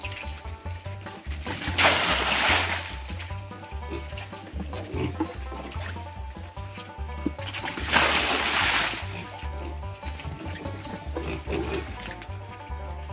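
Well water is thrown across a dirty pigsty floor to wash the muck away. There are two loud, broad splashing bursts with a steady wet rush between them, and livestock noise sits underneath.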